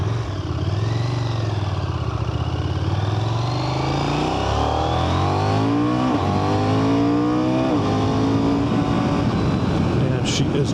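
A 2024 KTM 990 Duke motorcycle in track mode revs and accelerates hard through the gears, rising engine pitches sweeping up repeatedly, loud and close, with a rider talking over it.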